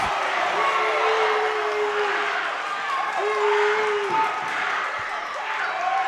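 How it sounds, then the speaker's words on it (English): Crowd noise fills a girls high school basketball game in a gym, a steady roar of voices and cheering throughout with a couple of sustained whistle-like tones over it. "This crowd is active"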